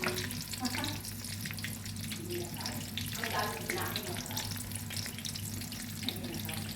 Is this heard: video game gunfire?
no